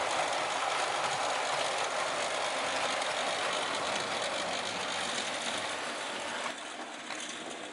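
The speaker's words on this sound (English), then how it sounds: "while the 2 engines are running around the main line, I can do some shunting" Model railway engines running around the main line of a layout, giving a steady, continuous mechanical whir and rattle throughout, fairly close and even in level, with no talking.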